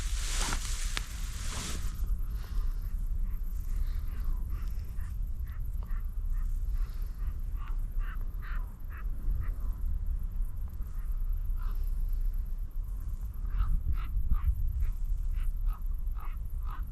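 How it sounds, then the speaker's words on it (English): Crows nesting in trees on a cliff at night give scattered soft calls and chatter, distant and intermittent over a low steady rumble of wind or surf, with a brief rustle near the start. "Crows nesting in the trees behind me, like doing birdie bedtime noises."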